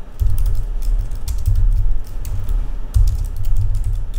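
Steady typing on a computer keyboard while HTML code is written for a CSS lesson, a continuous patter of close key clicks with brief pauses and bursts, heard alone with no talk.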